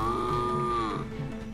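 A single drawn-out, low mooing call from a human voice imitating a buffalo, close and steady, trailing off at the end.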